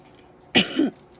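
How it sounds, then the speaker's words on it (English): A person gives one short, close throat clear, a quick two-part rasping burst in an otherwise quiet room. "Let me clear my throat."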